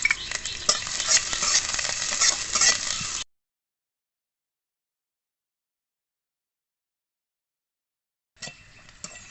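Green chili, onion and garlic sizzle and crackle as they fry in a pan, a steady dense hiss for about three seconds, then silence, then the frying returns briefly at the end.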